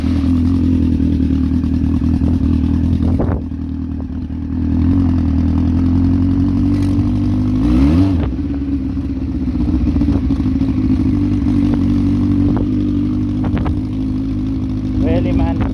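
A 1000cc Yamaha Fazer motorcycle engine, recovered from scrap and running with a faulty thermostat fan switch, rumbles steadily near the microphone, with a brief dip and a quick pitch sweep midway plus light clatter.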